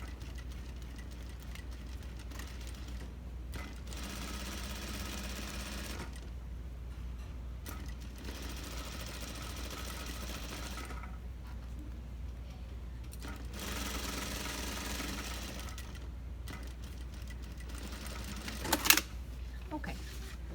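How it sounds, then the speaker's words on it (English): A sewing machine stitches around a jacket collar in several steady whirring bursts separated by short pauses, fairly quiet and close, with occasional faint handling clicks. "We keep sewing. This is probably the easiest step, just to go nicely around."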